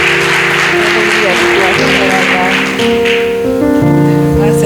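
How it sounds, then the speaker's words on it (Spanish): Church congregation applause for a pastor, a dense wash of clapping filling the room while music plays along, fading slightly before continuing under sustained tones. "Vamos a darle un aplauso al Señor por la vida de ella."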